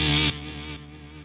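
A guitar effects pedal sweeping its filter frequency over a clean guitar tone, a sustained ringing chord whose brightness drops in stepped shifts as the sweep moves, loud at first then settling quieter, with no talking.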